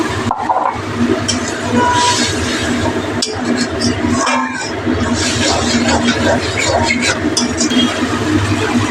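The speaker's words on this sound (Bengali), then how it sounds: "মাটি ধোয়ার জলটা দিয়ে দেব" Water is poured into a cooking pot of simmering vegetables, producing a continuous rushing, gushing splash. It stays fairly loud and close for about nine seconds, with a few knocks and dips along the way.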